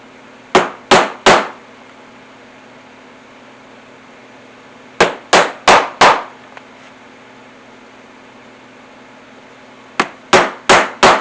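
Hammer blows driving rivets through a canvas and leather work apron, sharp loud strikes in tight bursts of three or four, separated by pauses of quiet room hum.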